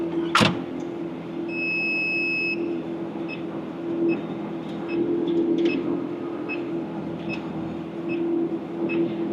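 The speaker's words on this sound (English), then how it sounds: "Passenger side mirror down. Driver's side mirror down." Electric side mirrors fold down on a 2004 Ferrari 360 Spider with a faint whirring motor hum over a steady idle, accompanied by small clicks and a sharp click at the start.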